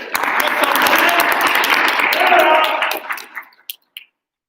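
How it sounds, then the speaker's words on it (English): Audience applause for a student speaker at a school debate: dense, steady clapping from a roomful of people for about three seconds, then thinning into a few last scattered claps before silence. "All right, clap for Landon"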